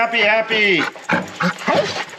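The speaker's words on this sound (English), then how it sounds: "Hi, look at all the dogs. They're so happy." Several happy dogs whimper and yip in close, breathy bursts, with the sounds rising and falling in short clustered calls.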